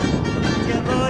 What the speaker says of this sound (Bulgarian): Слаб вятър, полъх от към